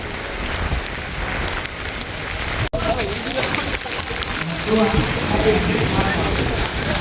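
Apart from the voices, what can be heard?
heavy rain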